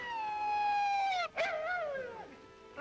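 A dog howls in one long, loud, falling wail close by, breaks off for an instant, then gives a second wavering howl that fades away, with no talking.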